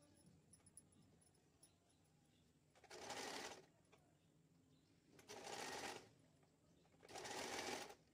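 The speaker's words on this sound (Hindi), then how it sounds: "तो आइए हम इसे स्टिच कर लेते हैं।" A sewing machine stitching saree blouse fabric runs in three short, loud whirring bursts, with quiet pauses between them in a hushed room.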